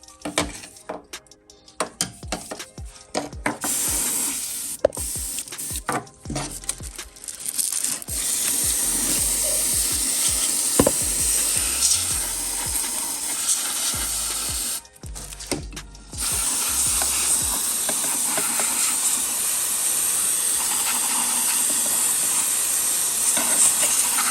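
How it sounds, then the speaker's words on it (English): Sandpaper scrubs rapidly against the ignition points of a 1978 EZGO three-wheel gas golf cart that sat unused for decades. The coarse rasping comes close and loud in fast strokes, with a few short pauses. "I'm cleaning the points right now with some sandpaper"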